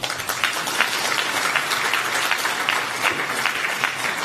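Steady, dense applause from a large audience at an annual members' meeting of a national social security fund. It is loud and sustained for several seconds, with no talking over it.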